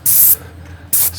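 Paint sprayer spraying exterior stucco accents around a light fixture, two loud hissing bursts separated by a short pause, close and alone with no talk.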